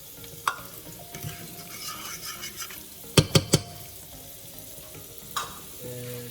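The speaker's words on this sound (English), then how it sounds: "And just stir as you add your grits in." Grits stirred into a pot on medium-high heat, with a soft continuous sizzle under a few sharp metallic spoon clacks against the pot rim, near and moderately loud.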